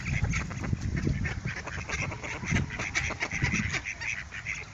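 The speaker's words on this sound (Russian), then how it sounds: "молодая утка подбирается ко мне" Wild ducks quacking close by while being hand-fed, a busy run of overlapping, uneven quacks and honks from several birds, without talk.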